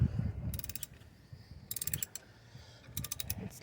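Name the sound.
loosening a tough car bolt with a breaker bar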